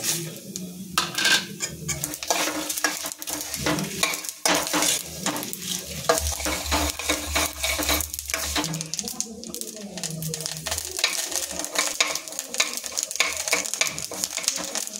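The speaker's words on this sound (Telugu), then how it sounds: "తాలింపు వేగిపోయిందండి" A tempering of cumin seeds sizzles in a hot pan while a utensil scrapes and stirs in an uneven rhythm, close and fairly loud, with speech in the background.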